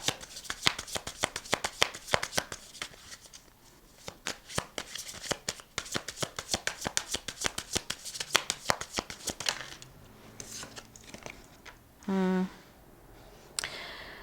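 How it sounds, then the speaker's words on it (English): Tarot cards riffled and shuffled in rapid crisp bursts for about ten seconds, then slowed to scattered slaps as cards are laid out, with a brief voice near the end. "I'm going to get all the cards out here first"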